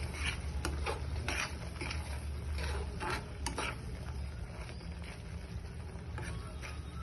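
A spoon stirs cashews, almonds, dry fruits and poppy seeds into a thick sweet modak filling in a pan, giving steady soft scraping with repeated light clicks against the metal and no talk.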